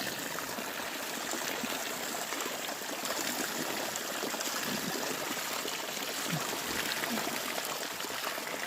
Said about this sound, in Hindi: ऐसे ग्लेशियर से पानी बह रहा है